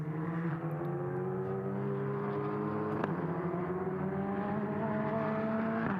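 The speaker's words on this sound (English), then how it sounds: "Definite cars in the refueling area." GT endurance race cars idle and rumble in the refueling area at Paul Ricard circuit during a six-hour race, a steady multi-toned engine drone with one brief sharp blip partway through, heard at moderate distance.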